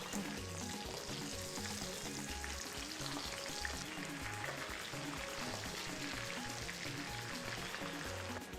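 Steady, dense sizzling of chicken frying in hot oil, close and continuous, with crackling pops throughout and no talking.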